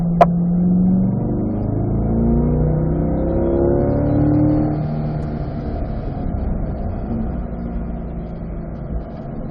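A Chevrolet Corvette accelerates out of a track corner, its engine note climbing steadily from inside the cabin, droning on with road and wind noise.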